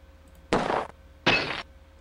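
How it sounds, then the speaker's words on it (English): Two short, bright shattering bursts a little under a second apart as small glass bottles are shot and break in the game The Yukon Trail, each crash loud and clean over quiet background hum. "we just need to hit 5 small bottles and then we'll blow the rest of our bullets"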